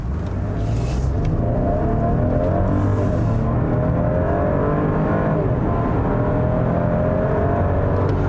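A 2020 Porsche Cayenne with the base engine accelerating hard from inside, a loud, steady engine drone building in pitch under sustained throttle, with no voices.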